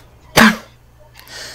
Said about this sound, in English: Why do you sneeze?